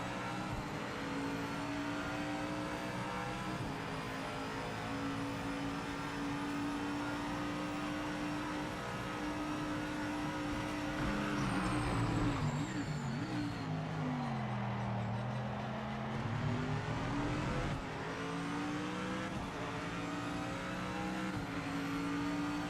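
Race cars in Project Motor Racing, a Porsche and an AMG, with continuous engine drone and a car sweeping past mid-way with a pitch shift, engines revving loudly throughout.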